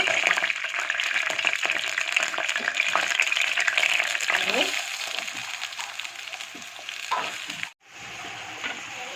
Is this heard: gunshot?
no